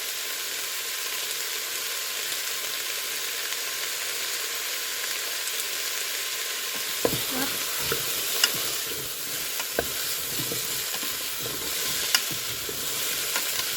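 Shallots sizzle steadily in a pan as the base for a butternut squash soup, a soft even hiss that turns busier and crackly halfway through, with sharp spits and stirring clatter on top; no one speaks.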